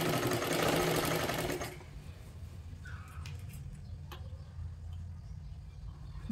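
A sewing machine stitches a three-piece princess blouse, a fast, loud mechanical whir for under two seconds, then stops, leaving faint room noise and a few soft clicks.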